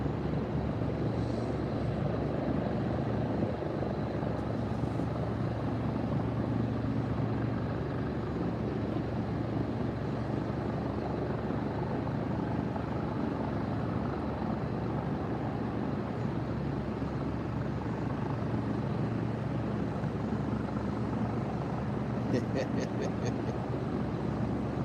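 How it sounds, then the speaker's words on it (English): Aircraft passing overhead at dawn, a steady broad engine drone that holds for the whole stretch at moderate level, with faint distant voices underneath. "you might get to see a couple aircraft go by"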